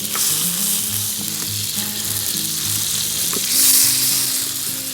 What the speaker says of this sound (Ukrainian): обсмажуються обов'язково на вершковому маслі